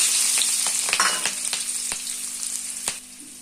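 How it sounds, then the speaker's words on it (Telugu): Cumin, mustard seeds and chillies tempering in hot sunflower oil, giving a steady close sizzle and fry hiss throughout, with regular light clicks of stirring on the pan and no talking. "సన్ఫ్లవర్ నూనె, జీలకర్ర ఆవాలు వేసుకోవాలా. పచ్చిమిరపకాయలు, ఎర్రగడ్డలు వేసుకోవాలా."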